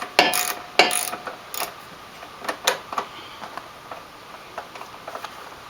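A ratchet wrench backs out an 8mm seat bolt on a Honda Shadow motorcycle, giving a close series of quick metallic clicks in bursts that grow softer and sparser toward the end, with no voices.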